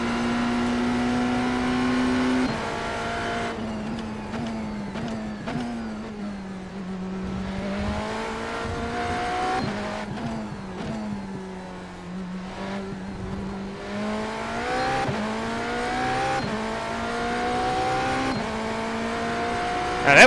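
A race car in a Le Mans racing video game holds long sustained engine notes, rising and falling through gear shifts over a lap, loud and continuous with no voices.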